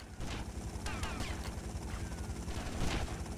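A helicopter in the video game GTA Vice City Hardlined, its steady rotor chop pulsing throughout, mixed with bursts of gunfire and mechanical clatter, moderately loud and continuous with no talking.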